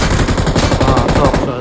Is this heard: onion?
no